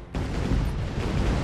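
A firework weapon explodes in ShellShock Live, a loud sudden boom that swells into a dense, rumbling, sustained blast filling the moment without talk.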